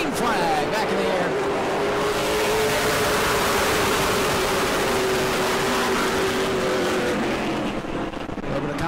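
A pack of Pro Late Model race cars roars away at the green flag at New Smyrna, engines loud and rising in pitch as they accelerate together, with a commentator talking over them.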